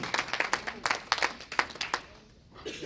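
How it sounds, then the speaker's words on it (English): Scattered audience clapping at a youth technology summit, a series of distinct claps that thin out and fade to near quiet before a faint stir at the end. "Y'all can give me a little applause"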